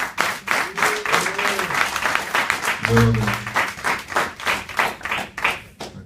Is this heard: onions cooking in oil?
no